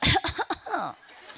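Several short coughs from an audience in quick succession, close and loud, followed by a brief throaty sound fading into quiet.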